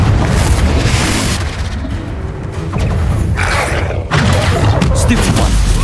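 A Confringo spell explosion in the video game Hogwarts Legacy, a loud, dense booming blast with rumbling bursts that fill the whole stretch, under a busy layer of game sound.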